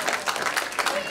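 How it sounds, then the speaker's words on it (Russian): Applause from an audience in a school hall greets an Olympiad team from class 11B, steady dense clapping filling the whole short stretch. "а уважаемую публику встретить их овациями"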